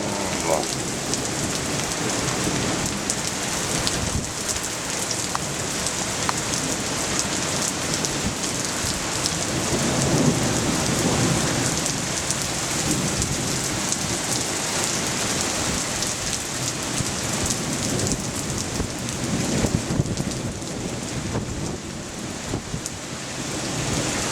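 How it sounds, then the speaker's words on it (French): Violent thunderstorm in France with heavy rain pouring steadily onto surfaces, a dense close hiss that runs unbroken throughout, with low rumbles of thunder rolling beneath it. "Les orages tombent."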